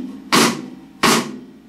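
Two loud snare drum hits with the snares on, each a bright, buzzy crack with a short rattling tail, spaced about a second apart and close up.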